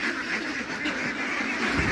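Ducks on a farm keep up a continuous, dense chorus of quacking. Many birds call at once, close by and loud, with no talk over them.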